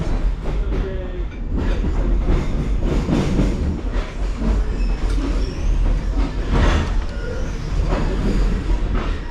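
TAZARA passenger train rolls along the rails in Tanzania with a loud, continuous rumble and rattling clatter of the carriages, steady throughout with no talking.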